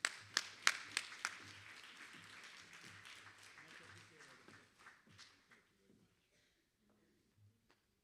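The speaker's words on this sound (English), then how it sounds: "Big round of applause for him." Audience applause at a gala honoring a community member, a few sharp claps up front giving way to a thinning, fading patter that dies out to near silence.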